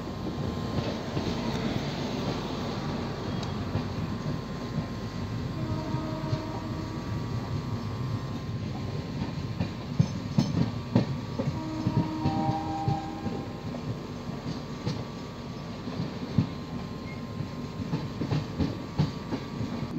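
A long-distance passenger train runs on rails toward Varanasi, a steady rumbling roll with rhythmic clicks and rattles continuing throughout, heard from inside the carriage at moderate loudness.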